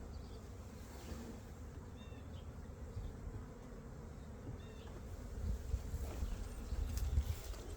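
Slow-moving honeybees from a light, late-winter colony buzz softly near the cluster as the hive is fed honey, a faint continuous drone with light handling noises and a slight swell toward the end.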